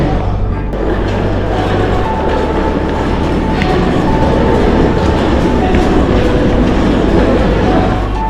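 A train rumbles steadily at a Swiss railway station in the Alps, its low continuous roar and faint clatter of wagons filling the scene, loud and close throughout with no clear talk.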